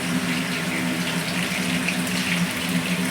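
Tap water runs steadily into a kitchen sink while a kadhai pan is washed, a continuous close gush with no talk.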